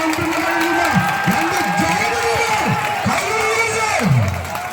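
A crowd at a tug-of-war show cheers, shouts and whoops loudly and continuously, with rising and falling yells over a steady roar of voices.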